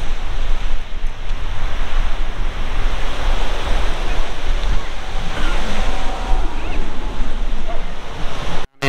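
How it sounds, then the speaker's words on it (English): Surf breaks on a beach at Bognor Regis as a loud, continuous roar of rushing water, buffeted by wind noise on the microphone, ending abruptly. "You show them the beautiful beach."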